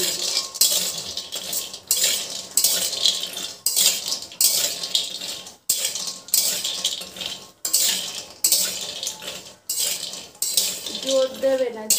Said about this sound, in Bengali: একদম হালকা লো ফ্লেমে ড্রাই রোস্ট করে নেব।